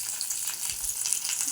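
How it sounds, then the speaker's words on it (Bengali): Eggplant slices frying in hot oil, a soft continuous crackling sizzle heard briefly and at low level, with no voices. "গরম গরম বেগুন ভাজা হচ্ছে ভাত দিয়ে খাওয়ার জন্য।"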